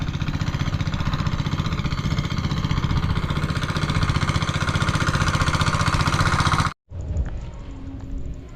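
Farm machine engine running close by, a loud steady rapid knocking chug that cuts out abruptly near the end, leaving a quieter, thinner mechanical hum.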